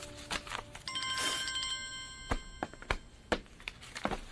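A mobile phone rings with a short, bright bell-like tone that lasts about a second, followed by scattered taps and knocks nearby.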